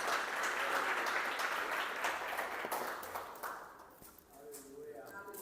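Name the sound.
church congregation applauding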